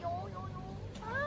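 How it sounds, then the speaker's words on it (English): A small stray kitten on a street in Shenzhen, China gives faint, thin meows, one early and one near the end, with a soft hum of background noise in between. "These 2 little kittens are so cute."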